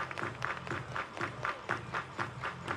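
Baseball crowd at a college game between Tennessee and Illinois clapping in a steady rhythmic beat, a moderately loud pulse of hands repeating about every quarter second with background crowd murmur.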